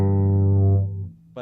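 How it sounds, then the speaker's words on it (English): A single sustained bass note through a Boss Katana bass combo amp's gain setting, with warm, overdriven tube-style distortion, ringing clearly before fading out. "great, like old school tube amp kind of type sounds"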